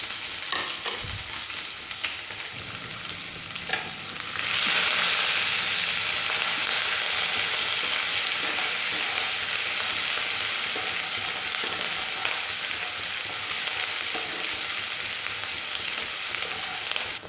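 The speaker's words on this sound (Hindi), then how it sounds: "तो मैं प्याज को थोड़ा सा ही भूनूंगी" Onion frying in a pan makes a loud, continuous sizzle that swells sharply after a few seconds and then holds steady with faint stirring.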